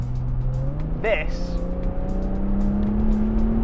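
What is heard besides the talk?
Jaguar F-Type V6 sports car engine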